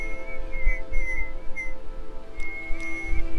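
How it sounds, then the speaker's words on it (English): A character whistling in the video game Morrowind: a clear tuneful whistle in short phrases over a soft low rumbling background. "That whistling surprised me, not only while I was playing, but just now as well."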